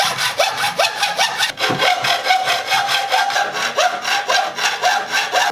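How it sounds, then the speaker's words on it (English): A metal handsaw cuts through an aluminum T-track, close and loud, with a steady back-and-forth rhythm of rasping strokes and a brief pause partway through, no voices. "they're really easy to cut just using a metal handsaw"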